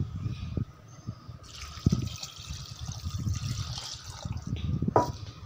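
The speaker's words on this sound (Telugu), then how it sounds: "దీనిలో వాటర్ పోస్తున్నానండి." About a litre of water is poured into a pressure cooker holding goat trotter sherva, making a quiet, continuous trickling and splashing with low clunks and a brief brighter splash near the end.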